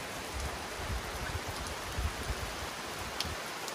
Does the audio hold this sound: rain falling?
yes